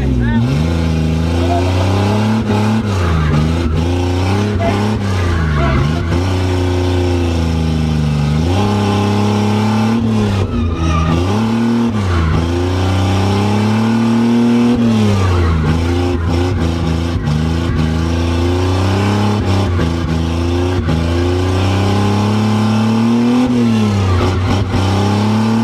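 A Chevrolet Omega drift car in a racing simulator video game, its engine revving hard and continuously with rising and falling pitch as it slides, loud throughout while people talk over it.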